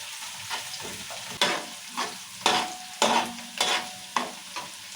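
Finely cut onions and chillies frying in a pan with a little salt for a fish curry, a close sizzle punctuated by about seven scraping stirs of a spoon, with no talking.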